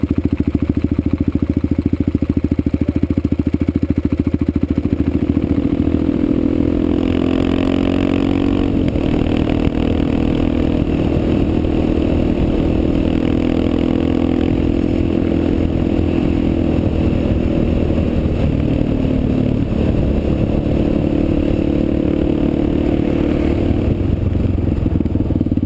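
A KLR650 dual-sport motorcycle rides on trails in spring, its engine droning steadily with shifts in revs and some clatter, no talk.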